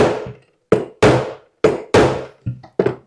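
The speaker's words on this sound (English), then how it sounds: "I come in with my hammer." Hammer tapping a wooden bookcase joint to bring it flush, about six solid knocks at an uneven pace with brief pauses, close and clear with no talking.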